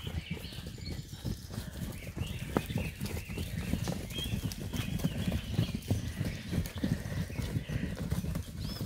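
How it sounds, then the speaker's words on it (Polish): A group of Hucul horses gallops past, a dense, continuous drumming of hooves at moderate distance with a rough, dusty texture and no clear voices. "I teraz druga grupa konie Lecą."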